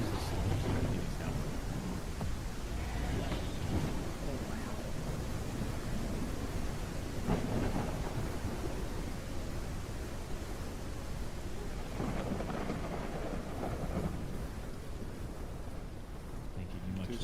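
Rain pours steadily in a thunderstorm in the dragon game Day of Dragons, with deep rolling thunder rumbles swelling and fading throughout and a voice speaking beneath the storm.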